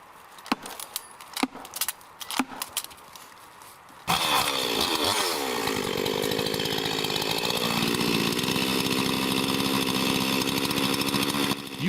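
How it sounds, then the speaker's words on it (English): Tree felling in a logging setting: after a few light clinks and taps, a chainsaw bursts into loud, close revving at four seconds and keeps cutting wood steadily, its pitch dipping and rising under load. "They used a chainsaw to divide the space into two parts of wood"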